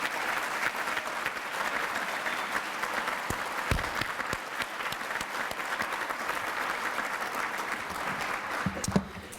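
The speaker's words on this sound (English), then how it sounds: "I would like everyone here to give these 41 deserving graduates a round of applause." An audience at a law school graduation ceremony gives sustained applause for the graduating class, a dense, even roar of many hands clapping for several seconds with no speech over it.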